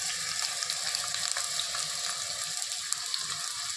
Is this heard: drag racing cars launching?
no